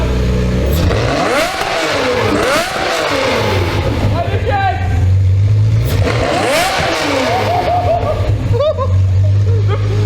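A Lamborghini Murcielago sports car exhaust revs repeatedly in rising and falling sweeps, loud and close, as people talk over it.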